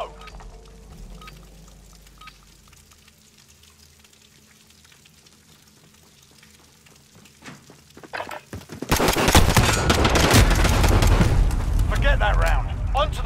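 Machine gun fire in a video game breaks out after a quiet stretch of faint background noise, turning into a loud, dense fusillade of rapid shots that continues to the end.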